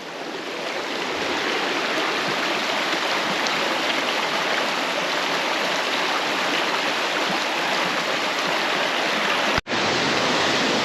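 Water cascades steadily through a wooded gorge at Hareshaw Linn, Northumberland, a continuous broad rushing roar close by, broken only by a brief dropout near the end.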